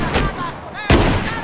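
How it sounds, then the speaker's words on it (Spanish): Shotgun blasts from a SPAS shotgun in the Battlefield 4 video game, two loud, sharp close booms about a second apart with brief ringing tails. "le he metido un escopetazo en la boca"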